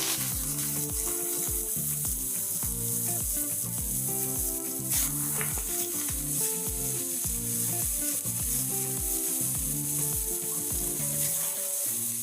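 Chopped carrots hit a pan of frying garlic and green chili for a Marathi home-style bhaji, giving a continuous close sizzle with repeated rhythmic scraping strokes of a spoon stirring throughout, no voices.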